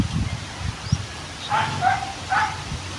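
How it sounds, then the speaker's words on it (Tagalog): A dog barks a few times outdoors at a moderate distance, with short bursts separated by pauses over a quiet background and a little rustling. "Yung aso tumatahol, no."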